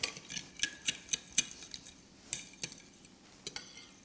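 Egg and slightly cooled butter being stirred into gluten-free hot cross bun dough, a spoon clicking sharply against a bowl in a quick irregular run of taps, close and quiet with no voices.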